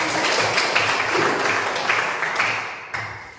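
A class of students claps together in a classroom, a dense, steady patter of many hands that runs the whole time and fades slightly toward the end.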